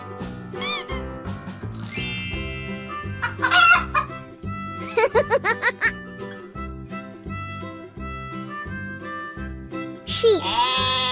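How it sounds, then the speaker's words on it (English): A chicken clucks and squawks in a series of bursts over a rhythmic musical backing track, its calls fairly loud and up front. "Chicken."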